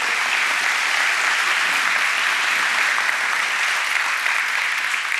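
A church congregation applauding during a sermon, a steady, even wash of many hands clapping that holds at constant loudness throughout with no voices above it.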